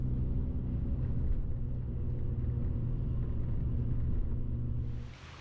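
A car driving near Nome, Alaska, with a steady low engine and road rumble heard from inside the vehicle, continuous and fairly loud, easing off at the very end.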